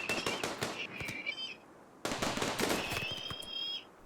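Rapid bursts of cracking shots in the RimWorld game, two clusters of sharp reports separated by a brief pause, each trailed by a thin whining tone, fairly near and alone.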